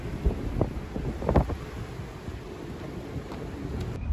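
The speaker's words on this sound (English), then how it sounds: "As you can hear, that wind is really kicking." Strong wind gusts buffeting a sailing boat at anchor in Jonah Bay on a night of gusts near 35 knots, a continuous low roar with a few sharper thumps from the boat, no talking.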